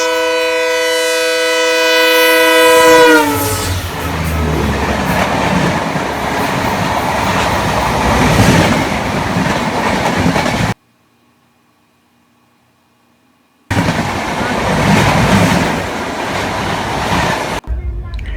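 From aboard the Udyan Express on a single non-electrified line, a train horn sounds in a steady chord, then the Pune–Secunderabad Shatabdi Express rushes past with a roaring, rattling wash of noise, a brief lull, then more rumbling.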